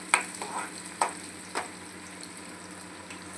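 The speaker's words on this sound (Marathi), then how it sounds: "तेलावरतीच मस्त असं आपल्याला परतवून घ्यायचं आहे" Chopped vegetables including carrots sautéing in oil in a pan, a quiet continuous sizzle with a few sharp scrapes of a spoon near the start, then settling into soft frying.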